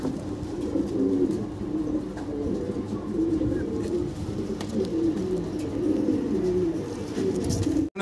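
Mundian fancy pigeons coo steadily in a low, continuous murmur from several birds, with faint chirps above, fairly loud and close, with no talking.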